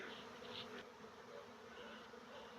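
A swarm of honey bees hums in a dense, continuous buzz that stays close and even throughout, with no voices.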